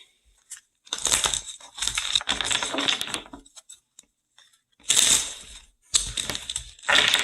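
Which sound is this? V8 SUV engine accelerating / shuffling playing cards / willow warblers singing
shuffling playing cards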